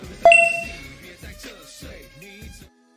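A payment app pops up a fraud-risk warning with one bright, ringing chime that fades out, followed by a few softer tonal blips before silence.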